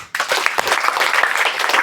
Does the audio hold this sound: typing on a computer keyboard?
no